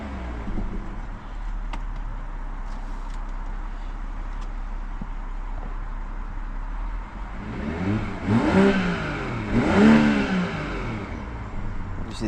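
A BMW M340i G20 idles steadily, then its engine revs up in two strong swells before dropping back, heard up close and with no one talking.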